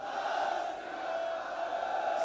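A large crowd of Sikhs at an outdoor gathering shouts the jaikara in unison, a loud, sustained roar of massed voices.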